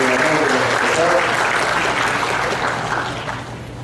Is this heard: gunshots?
no